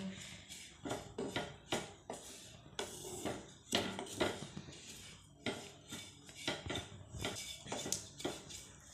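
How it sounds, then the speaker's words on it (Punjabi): Ladle repeatedly scraping and knocking against a pan while stirring grated coconut for coconut laddoos, irregular clattering strokes throughout, close and moderately loud, with faint talk in the background. "ਇਸੇ ਤਰ੍ਹਾਂ ਹੀ ਆਪਾਂ ਕੜਛੀ ਹਿਲਾਉਂਦੇ ਰਹਾਂਗੇ ਤਾਂ ਕਿ ਜਿਹੜਾ ਆਪਣਾ ਨਾਰੀਅਲ ਦਾ ਬਰਾਦਾ ਪਾਇਆ ਉਹ ਥੱਲੇ ਨਾ ਲੱਗੇ ਪੈਨ ਦੇ ਵਿੱਚ"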